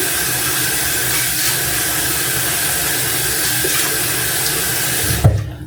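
Tap water runs steadily into a sink for wetting hair, a loud close rushing stream that stops abruptly near the end with a small thump.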